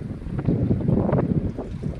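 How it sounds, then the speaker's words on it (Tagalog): Strong wind gusts buffet the microphone beside choppy water, a loud rumbling roar that swells and dips unevenly, with no voices. "Mahangin siya, guys."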